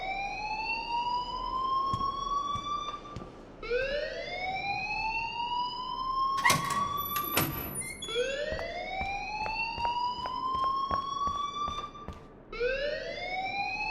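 A school alarm in the game Life Is Strange repeats a rising electronic wail, each sweep climbing and holding for about three seconds, loud and unbroken, with a few sharp knocks partway through.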